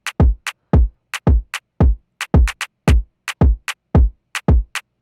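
Kick drum and bright percussion playing together in a pop beat, deep thumps alternating with crisp high clicks and taps in a steady, busy groove, with no voices or melody.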